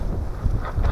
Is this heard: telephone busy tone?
no